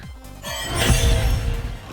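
A processed, swelling video game level-up effect with a sweeping, shimmering tone rising into a dense, bright burst, sustained and fairly loud, with no talking.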